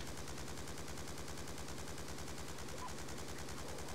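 Sustained automatic gunfire in Call of Duty Black Ops 2, a fast, even rattle of shots running nonstop at constant loudness.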